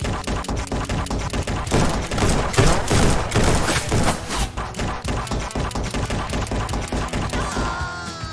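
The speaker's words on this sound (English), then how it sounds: "Oh, this is a lot of bullets to dodge." Heavy gunfire in Red Dead Redemption 2 played in VR: a dense, rapid volley of loud close shots with thumping impacts, continuing almost without pause and thinning toward the end.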